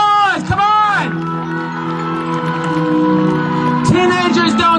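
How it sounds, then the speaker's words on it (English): A crowd cheering, whooping and shouting at an outdoor rally in Washington, D.C., the noise sustained and fairly loud, with an amplified voice speaking over it at the start and end. "One more round of applause!"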